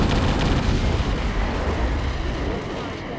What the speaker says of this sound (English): Wait, that's a bomb.